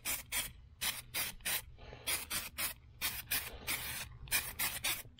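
Repeated short hissing bursts of aerosol spray paint coating restored wheels and center caps on a 2002 Avalanche, about a dozen quick pulses in an uneven rhythm, close and fairly loud with no talking.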